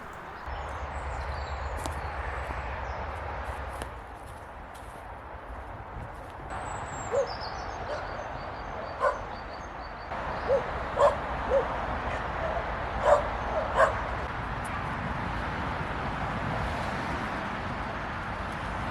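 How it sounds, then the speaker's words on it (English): Geese call in the distance, faint honks and hoots rising now and then over a steady outdoor hiss and hum, with occasional louder bursts toward the end. "The noise you can hear in the background is probably geese."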